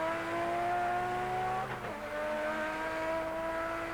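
Racing engines of a 1988 Nissan GTS-R and a Ford Sierra on a European circuit, a sustained high-pitched drone that dips briefly with a gear change before climbing again.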